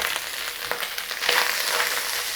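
Onion and beef fry in a pan for a casserole, giving a steady, close sizzle and crackle with a few stirring scrapes.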